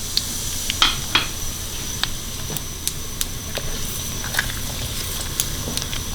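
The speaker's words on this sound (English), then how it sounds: "then you put the mustard seed, and then few seconds later when it starts popping you put the onion seeds" Mustard seeds crackle in hot oil for lime pickle, with scattered sharp pops over a steady sizzling hiss, close and fairly loud with no voices.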